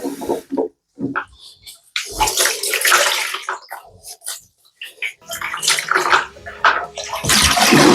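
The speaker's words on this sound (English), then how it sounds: "And wash our hands here." Tap water running over hands being washed clean of black box hair dye after dyeing a wig: loud, close splashing that gushes and breaks off in irregular bursts.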